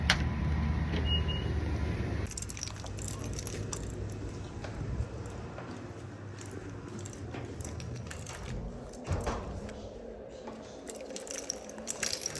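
Car engine and road rumble while driving around a building on the way to a store, a steady low drone with occasional thumps and rattles inside the cabin, no talking.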